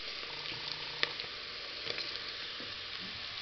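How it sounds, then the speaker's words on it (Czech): Chopped onion sizzling in hot fat in a pan, a continuous bright crackling hiss with occasional small pops, close and steady with no talking. "Dala jsem si spěnit cibulku."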